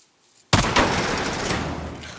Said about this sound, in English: I can shoot the latch.